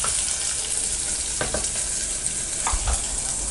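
Sliced onion and garlic sauté in a pan for sambar, a loud, close, steady sizzle broken by a few scraping stirs, with no talk.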